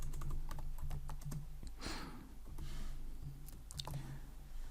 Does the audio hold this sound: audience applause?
no